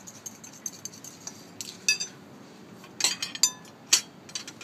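A utensil quickly mixing steak tartare in a bowl, with soft stirring and a few sharp metallic clinks and scrapes, close and fairly quiet, without talking.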